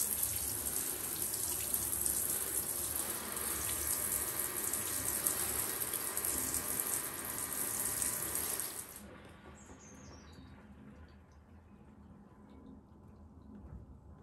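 Water runs steadily into a bathtub as grit and dirt are washed from parts of a 1993 Numatic Henry HVR 200 vacuum cleaner. The near, continuous flow stops abruptly partway through, leaving quiet room tone.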